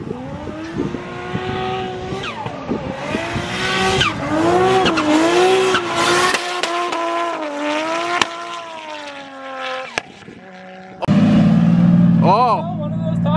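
BMW E36 drift car revving hard as its engine note climbs and shifts, with loud tire squeal and skidding, a short lull, then a burst of renewed wheelspin near the end; a voice talks over it at times.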